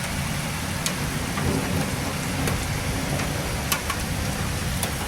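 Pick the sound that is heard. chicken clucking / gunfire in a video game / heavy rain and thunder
heavy rain and thunder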